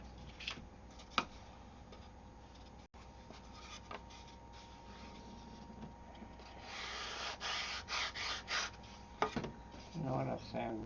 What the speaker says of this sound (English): I'll sand both these together